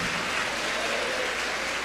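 A church congregation clapping for Jesus during a Portuguese-language sermon, a dense, even wash of applause held at moderate level throughout with no voices on top.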